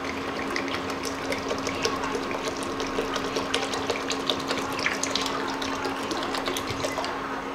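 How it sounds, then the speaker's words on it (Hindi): Water pours steadily into a cooking pot for chow mein, a continuous close splashing and trickling stream that lasts throughout without speech. "इसके लिए अभी पानी इसमें डाल देना है।"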